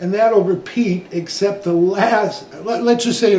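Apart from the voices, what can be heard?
No distinct noise like a dog, phone or traffic.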